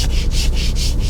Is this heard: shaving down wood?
yes